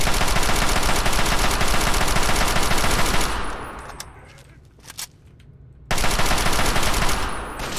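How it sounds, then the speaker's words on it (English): Chinese assault rifle in Fallout 3 firing sustained loud automatic bursts up close, a brief lull with a few isolated shots midway, then the rapid fire resumes. "Okay, Chinese assault rifle is doable, albeit highly inaccurate."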